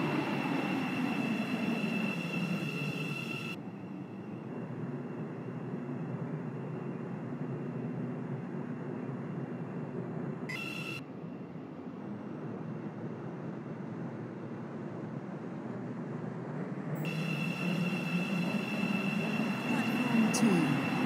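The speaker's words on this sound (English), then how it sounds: "We will shortly be arriving at Stepford Airport Parkway." A train pulls into a station in the Roblox game Stepford County Railway, with a steady rumbling run and a rising roar near the end. An automated announcement voice speaks over it.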